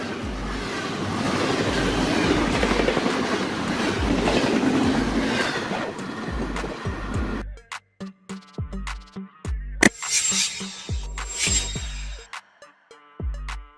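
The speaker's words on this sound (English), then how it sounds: "This is a train used to transport packaged goods in containers on railways." A container train rolls along a railway carrying packaged goods in containers, first a loud steady rumble with rhythmic wheel clatter, then a sparser run of sharp clicks and clacks over the rail joints, with no talk.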